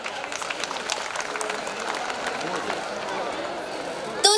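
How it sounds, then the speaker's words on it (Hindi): Audience applause at a New Year's Eve carnival programme, a dense, continuous roar of clapping mixed with crowd noise and voices, steady and loud throughout, with a brief louder burst at the very end. "ऑडियंस एक बार जोरदार तालियां हो जाएगी"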